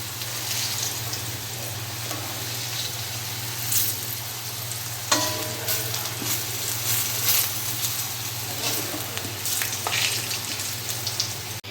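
Potatoes coated in turmeric fry in oil in a karahi, a steady close sizzle with scattered spits and pops, a low hum underneath and an occasional utensil scrape, no talking.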